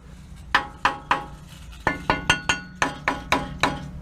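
A new clamp on a Nissan Pathfinder exhaust, fitted to fix a muffler rattle, is struck with about eleven sharp metallic taps. They come close and loud, in small uneven clusters with short pauses between.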